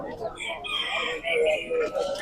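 Chickens and roosters at the Sabunchu poultry market cluck and squawk close by in overlapping bursts, with a crowing call rising among them and market chatter in the background.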